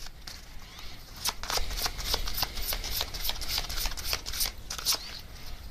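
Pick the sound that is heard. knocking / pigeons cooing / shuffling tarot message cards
shuffling tarot message cards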